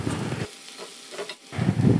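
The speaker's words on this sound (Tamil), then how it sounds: "நம்ம சேர்த்த இந்த வெங்காயம்லாம் நல்லாவே வதங்கி வரணும்." Finely chopped onions sizzle and hiss in a pan as they sauté for channa masala. The frying bursts in at the start, drops away briefly as they are stirred, then returns strongly at the end, close and with no talking.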